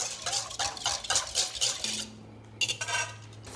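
A metal whisk stirs instant coffee into a bowl of warm water, making quick rhythmic scraping and clinking strokes against the bowl. After a short pause the strokes resume, close by with no talking.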